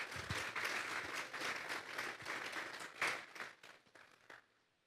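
A church congregation gives a round of applause, a dense patter of clapping that holds steady for a few seconds and then thins out and fades away, heard at a distance and fairly faint.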